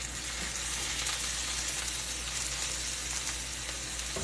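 Sausages sizzle and fry in a Cracker Barrel "Lady Liberty" 2022 cast iron skillet, a steady, dense, close hiss of crackling fat running without pause and no voices over it.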